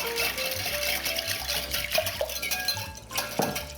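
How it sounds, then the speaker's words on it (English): Two cups of water poured into chocolate cake batter make a steady close trickle and splash in a bowl, with faint clinks alongside. "And I'm adding 2 cups of water."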